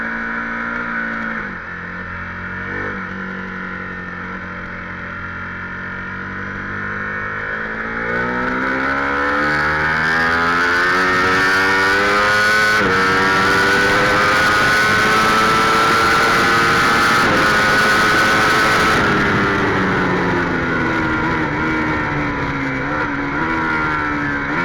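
A Ducati superbike engine on track laps, a loud sustained roar that rises and falls through revs and gear changes, heard close and steady for the whole stretch.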